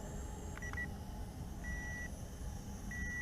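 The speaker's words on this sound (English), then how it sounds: "we hear a little beep going on the remote control, letting us know we are in the headless mode" A toy camera drone's remote control gives three short, high electronic beeps against a quiet, steady hum. They are spaced out at irregular intervals, with one cut short.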